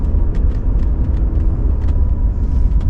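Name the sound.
1991 Mercedes 560SE W126 accelerating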